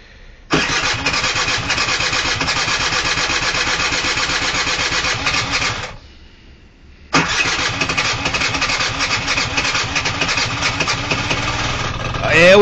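A scooter engine with the throttle cracked open is cranked on a cold start. A loud, steady buzzing whir runs about five seconds, pauses briefly, then a second long cranking attempt follows, with speech nearby.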